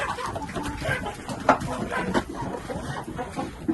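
Several geese call and cackle nearby in overlapping bursts, a busy barnyard chatter without any speech.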